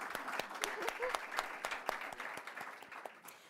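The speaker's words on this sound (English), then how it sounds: "yes, go ahead, clap, that's good." Scattered audience clapping at a chamber of commerce lunch, a moderate patter of individual claps with a voice briefly speaking over it.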